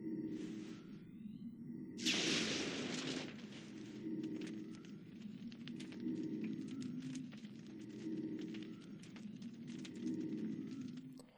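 A single loud gunshot blast in XCOM Enemy Within rings out for about a second, standing out over a low, pulsing game soundtrack that continues throughout.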